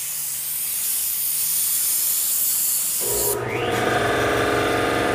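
A low-pressure spray gun hisses steadily as it lays a coat over a cracked Bondo body-filler repair, a continuous close airy rush that changes in tone partway through.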